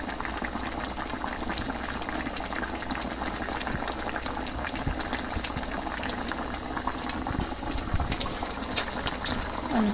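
A pot of ginataang isda with banana blossom in coconut milk bubbles steadily as it simmers and reduces. The bubbling is a soft, continuous, close sound with faint pops, and no one speaks.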